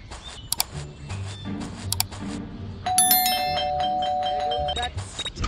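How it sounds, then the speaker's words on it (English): A doorbell rings in the video game Scary Teacher 3D, a clear two-tone electronic chime sustained over a couple of seconds, mixed with game sound effects and sharp clicks. "That stupid bell again."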